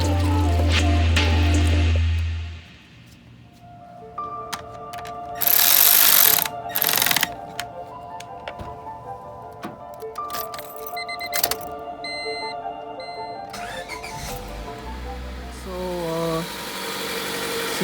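A 2000 Honda Civic engine cranks, catches and settles into a steady idle after valve cover gasket work, with clanks and rattles and a brief high squeal over the running engine.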